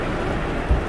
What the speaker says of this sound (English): it's thunderstorm and raining outside. You can hear.